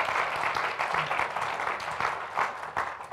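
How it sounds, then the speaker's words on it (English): Audience applause at an award ceremony honoring Justice Sonia Sotomayor, a sustained wash of many hands clapping at moderate distance, steady with small swells and no speech over it. "I'm going to take a break for the applause."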